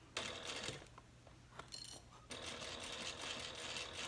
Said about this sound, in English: So I'm sewing from the inside, and we're gonna go.